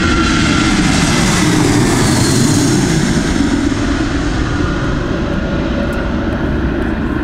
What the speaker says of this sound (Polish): Przecież to jest masakryczne, jak to samoloty nisko tu lecą.